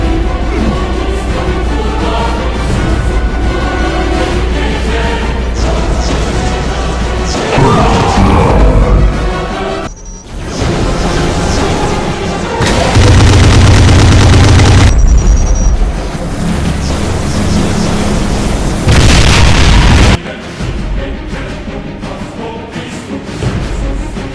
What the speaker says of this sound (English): It also fires the fully charged, true legendary BFG Devastator shots.